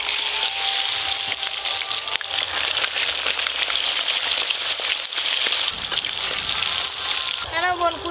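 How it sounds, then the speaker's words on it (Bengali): Fish frying in hot mustard oil in a kadai gives a dense, continuous sizzle and crackle, loud and close, with a brief voice near the end. "এবার মাছ ভাজা হবে, কড়ার তেলটা ভালো করে গরম করতে হবে।"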